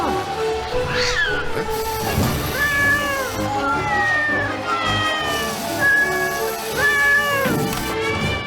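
A cartoon cat meows repeatedly in drawn-out, wavering cries, loud and close, with several yowls in a row over a faint background.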